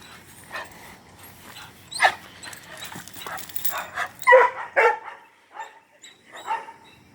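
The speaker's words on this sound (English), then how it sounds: "That's a good dog right there. Guard dog." A guard dog that watches over a garage barks in close, loud bursts, mixing sharp barks with yips and whimpers in an irregular rhythm.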